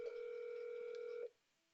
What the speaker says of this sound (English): when an inbound call is ringing in the soft phone, you can answer the phone in the widget